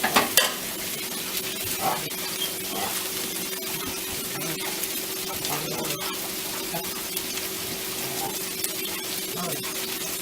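Meatballs fry with a steady sizzle in a pan for spaghetti and meatballs, while scraping and stirring sounds mark them being turned. A louder clatter comes at the start.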